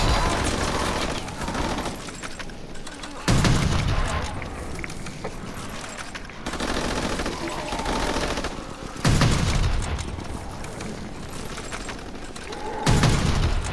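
Sustained automatic fire from an unlimited-ammo gun in Call of Duty WWII Nazi Zombies, a continuous rattle broken by several louder booming blasts at intervals, with heavy action noise throughout.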